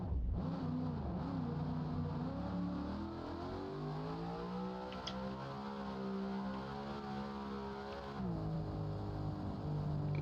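A car engine revs hard with nitrous boost in the driving simulator BeamNG.Drive, a loud sustained roar with its pitch climbing and easing, then dipping and rising again near the end, with no voices.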